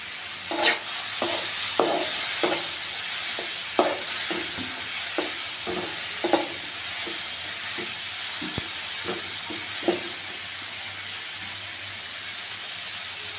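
Spice paste sautéing in oil for a Bangladeshi river fish curry, a steady loud sizzle with regular scraping strokes of a spatula against the pan, close and continuous with no talking.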